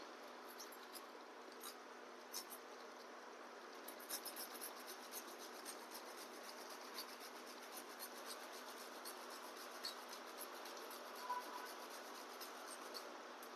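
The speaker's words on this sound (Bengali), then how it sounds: "একটু জায়ফল নিয়েছি যাতে একটু ভালো গন্ধ হয়, একটু ঘষে দিয়ে দিচ্ছি" Whole nutmeg is rubbed against a small grater over a pot of mutton curry, giving a faint, steady scratchy rasp with light repeated strokes throughout, close and quiet, with no talking.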